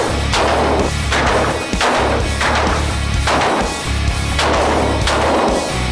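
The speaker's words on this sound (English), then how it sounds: "And let's start shooting." Big guns fired at a shooting range, about eight heavy, booming shots spaced roughly a second apart, loud and close, each with a sharp crack and a long rumbling tail and no talking.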